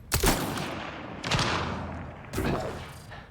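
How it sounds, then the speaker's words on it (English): A grenade launcher fires in the video game Mass Effect Andromeda: three sharp blasts about a second apart, each with a booming tail, at moderate loudness. "No wonder it does a lot of damage. It's a grenade launcher."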